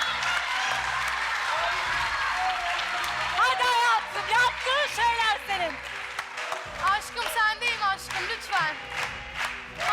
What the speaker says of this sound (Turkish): Haydi Hasan, Hasan'a bir alkış.